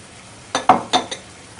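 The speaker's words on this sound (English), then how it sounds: "just give it a stir" A pan holding chilies and soya sauce being stirred, giving a few quick scrapes and clinks of a utensil against the pan, close by and moderately loud with short gaps between strokes.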